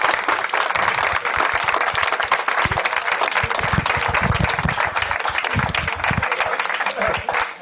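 Crowd applause from a played news clip, loud and sustained throughout, with brief bits of voices mixed in.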